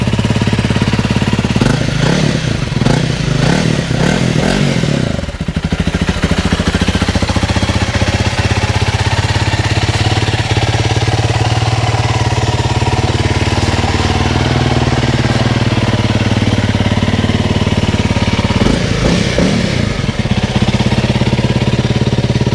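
A Honda CRF 300 off-road motorcycle with its stock muffler, 300cc, starts and runs close by with a loud, steady, chugging single-cylinder putter, briefly blipped near the start and again near the end.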